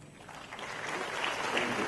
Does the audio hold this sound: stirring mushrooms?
no